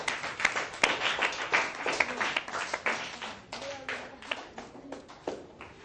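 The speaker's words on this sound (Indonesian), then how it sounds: "tepuk tangan untuk Nurul" A school class clapping for Nurul, a group of children's hands slapping in quick, uneven bursts, loud at first and thinning out toward the end.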